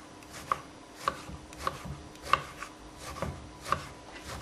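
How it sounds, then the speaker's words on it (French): Knife chopping eggplant into small cubes on a cutting board, evenly spaced close thuds roughly every half second with a soft scraping between strokes. "Et nous allons couper des petits cubes comme ceci."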